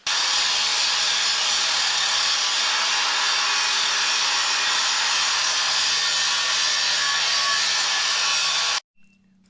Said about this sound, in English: I got a little bit of grinding to do here to get rid of the rest of this.